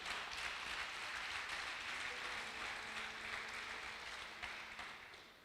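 A dense, continuous wash of congregational applause during a church sermon, fairly distant and steady before easing slightly near the end, with no clear speech over it.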